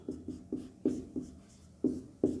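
Marker or pen strokes write out a math expression on a board in a quiet room, giving a run of short, rhythmic scratches and taps close by.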